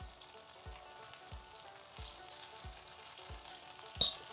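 Minced meat balls (kheema gole) fry steadily in a pan over medium-low flame, a continuous close sizzle with soft periodic low bumps and one brief louder clink near the end, no talking.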